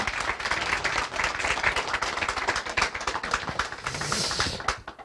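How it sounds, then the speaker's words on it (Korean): A forum audience gives sustained clapping after a lecture on Korean history, a close, crisp patter of many hands that holds steady for about five seconds before tapering off. "박수 한번 부탁드리겠습니다"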